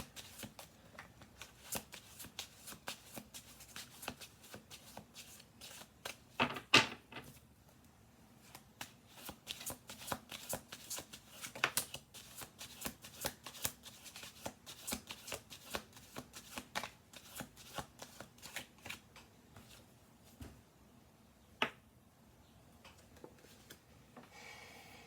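Quiet, close shuffling of a deck of tarot cards, a long run of soft riffles and taps with a few sharper snaps.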